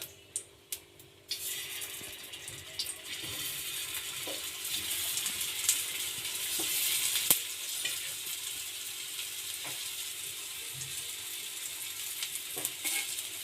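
Sweet potato and mung bean puli pitha fry in a little oil, giving a steady soft sizzle with a few clinks of utensils near the start and light stirring scrapes throughout, close and fairly quiet.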